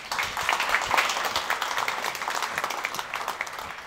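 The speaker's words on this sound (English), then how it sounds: "A warm applause, please." A conference audience gives warm applause as a Google hardware design executive walks on stage, a full, even patter of many hands that swells briefly then holds steady and slowly eases off.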